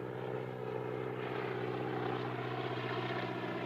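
A propeller airplane approaches in a scene from the film North by Northwest, its engine a steady, loud droning hum that holds throughout without any talk over it.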